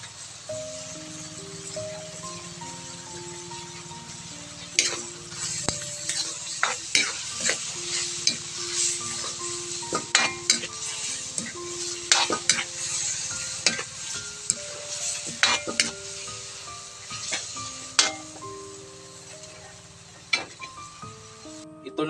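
Vegetables stir-fried in a hot pan with oyster sauce just added, a steady sizzle broken by repeated scraping and clinking strokes of a spatula, close and loud throughout with no talking.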